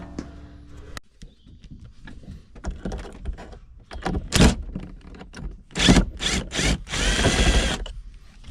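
A power drill backs drywall screws out of a cheap Walmart plastic container mounted in a 2005 Kodiak C4500 Duramax diesel camper, with scattered clicks and clunks before loud whirring bursts near the end.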